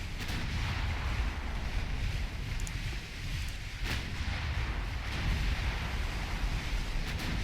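In the naval warship game Ultimate Admiral Dreadnoughts, 11-inch naval guns land hits on a ship as a dense, continuous rumble of distant booms and crackling impacts, with a few sharper thuds standing out.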